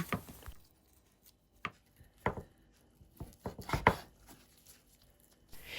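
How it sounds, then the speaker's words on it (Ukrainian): A knife chops pork into small pieces for shashlik on a board in a series of sharp, irregular thumps, some single and some in quick clusters, with quiet gaps between. "М'ясо нарізаю на невеличкі кусочки"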